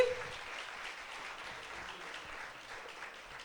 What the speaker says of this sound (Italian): Voglio un applauso forte forte da parte di tutti voi che siete qui